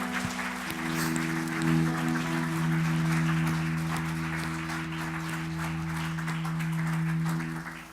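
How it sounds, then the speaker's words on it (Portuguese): Church congregation applauding after a call from the pastor at a worship service, a steady, dense wash of clapping that fills the room from start to finish, with sustained organ or keyboard tones held underneath. "Você pode dar um aplauso para o Senhor?"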